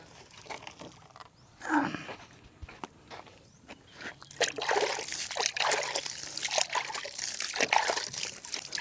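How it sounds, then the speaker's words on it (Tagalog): Water poured out in uneven splashes and trickles, louder in the second half, with some scraping handling noises and no talk. "Buhusan natin ng tubig."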